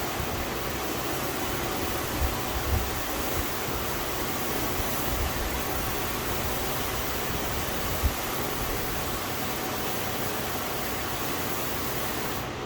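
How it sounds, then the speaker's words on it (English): Water from a hose or pressure rinse sprays steadily over a slick-coated car surface, a continuous broadband hiss with small splashy bumps, constant and close throughout. "And we'll rinse it off."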